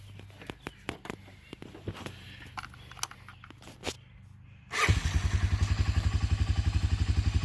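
A Honda 300 4x4 ATV sits quiet with scattered clicks and knocks, then its engine fires up and settles into a loud, rapid, even idle putter up close.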